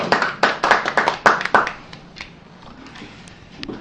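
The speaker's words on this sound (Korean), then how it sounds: "그래서 오늘 이렇게 마치고 박수로 마치겠습니다." A short burst of scattered hand clapping at the close of a members' education session, around eight claps over a second and a half, then fading into quiet room noise.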